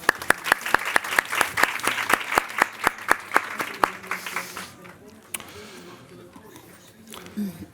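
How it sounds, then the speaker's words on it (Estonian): An indoor audience claps at a talk event, starting in a rhythmic, evenly paced burst of loud claps that fade out after about four seconds into quiet room sound and a voice. "Palun plaksutame Angelale"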